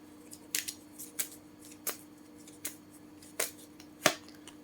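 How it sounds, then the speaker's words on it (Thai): Crystal oracle cards shuffled for a pick-a-card reading, heard as a series of six or seven sharp, crisp card snaps at a steady pace, close and clear over a quiet room with a faint steady hum. "สับเป็นตัวอันนี้นะคะเป็นคริสตัลการ์ดนะ"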